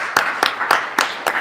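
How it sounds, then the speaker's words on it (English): Five sharp, evenly spaced claps ring out one after another, loud and close, at a Detroit 1 Million Cups presentation. "I want everybody to give her a round of applause"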